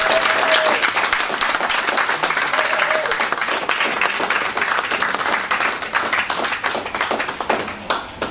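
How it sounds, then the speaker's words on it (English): A crowd applauds warmly for Sifu Bryan Barnes before a Northern Praying Mantis kung fu demonstration at a talks event, a loud, dense burst of clapping that thins and tapers over eight seconds. "So can we give a warm round of applause for Sifu?"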